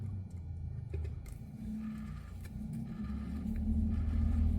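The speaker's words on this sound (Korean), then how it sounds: "뭔가가 베어링이 갈리는 소리" An alternator rotor turned by hand with a flat screwdriver, its worn pulley bearing giving a low, rough grinding rumble with faint ticks, close and quiet, steady and slightly building toward the end.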